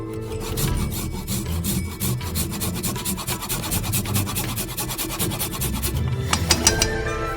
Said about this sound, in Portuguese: Ralamos o gengibre.